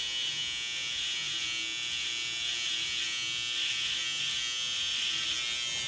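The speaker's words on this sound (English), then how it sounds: "Following the line with my clipper head, make sure the clipper head is always on that angle" Electric hair clippers hum in a steady, close, unbroken buzz while cutting a fade haircut, with no voices over the drone.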